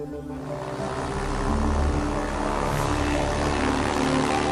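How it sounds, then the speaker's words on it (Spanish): Vought V-173 propeller aircraft in flight, a steady loud droning engine and propeller hum that swells slightly and holds constant throughout, with no voices. "El V-173 vuela por primera vez el 23 de noviembre de 1942 con Boone T. Guyton"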